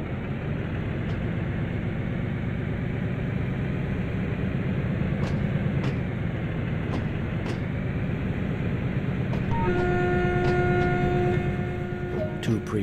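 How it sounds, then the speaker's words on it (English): BR204 diesel locomotive starting to move in the Train Sim World 2020 game, a steady low engine drone with clicks and a sustained whine rising in over the last few seconds. "To get the train moving, we will set the throttle wheel."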